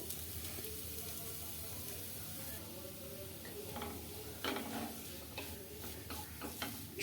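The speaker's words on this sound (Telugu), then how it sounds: "ఈ నెయ్యిలో కొద్దిగా ఫ్రై చేసుకోవాలన్నమాట" Ground fresh coconut frying in hot ghee for coconut khova, a faint steady sizzle with light stirring scrapes and ticks of a utensil against the pan toward the end, with no talk.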